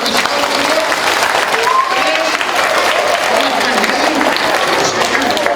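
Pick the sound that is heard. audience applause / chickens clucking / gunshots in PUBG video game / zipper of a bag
audience applause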